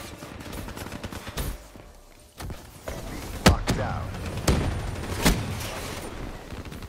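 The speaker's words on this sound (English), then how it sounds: "I'm shooting in a bunch of smoke" Gunfire in the video game Black Ops 3, with several sharp gunshot bursts over a busy, noisy battle mix and occasional thuds, fairly loud and close.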